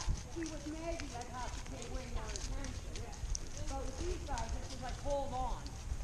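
Horse hooves clip-clop steadily on a trail in a rapid, even rhythm under constant close noise, while people talk over them throughout.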